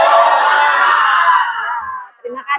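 A school class shouting together in a loud spirited cheer, a sustained mass of children's voices for about two seconds, then a couple of short claps or shouts at the end.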